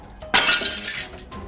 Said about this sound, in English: shattering the jar on the concrete beneath my feet